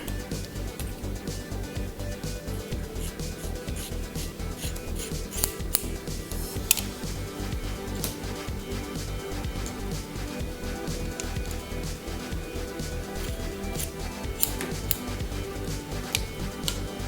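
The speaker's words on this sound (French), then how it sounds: "Moi, je vais les couper ici, donc je vais couper tout ça." Small scissors snip the hair of a Poppy Parker fashion doll in many rapid crisp cuts, close and fairly quiet, continuing steadily for the whole stretch with no talking.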